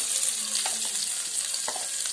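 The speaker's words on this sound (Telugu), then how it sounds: "ఇక్కడ ఒక్క నిమిషం ఫ్రై చేయండి" Ginger, garlic and pepper paste fries in hot oil with a bright, continuous sizzling hiss, broken by a few soft stirring clicks, close by and without talk.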